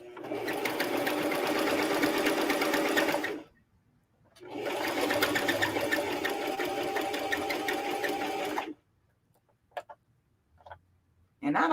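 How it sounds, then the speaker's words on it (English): A sewing machine stitches fabric in two long, fast, steady runs with a pause between them, the motor loud and close, followed by a few faint clicks and ticks in near quiet. "I don't know if these bobbins like this machine, but it makes a lot of noise"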